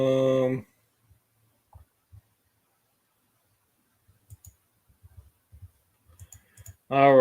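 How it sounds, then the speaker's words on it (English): Loud computer keyboard keys clicking in short irregular bursts and single taps, close to the microphone, with a voice talking at the start and end. "Sorry if my keyboard's really loud."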